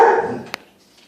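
A dog barks at a cat, one loud close bark fading into a short whine-like tail, followed by a brief sharp snap and near silence.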